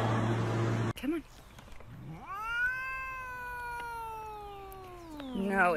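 A cat lets out a long, drawn-out meow, rising then holding steady before trailing off, with a shorter cry and some background noise around it.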